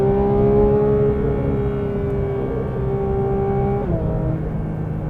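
A 2022 Porsche 911 GT3 at Road Atlanta runs on track in sport mode with the PDK gearbox shifting by itself, giving a steady loud engine drone with a smooth gear change near the end, close and continuous.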